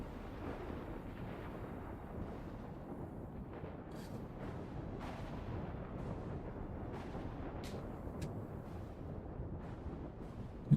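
Storm in the video game Dune Awakening, a faint continuous rumbling roar of wind and blowing sand with scattered soft cracks and gusts, steady throughout.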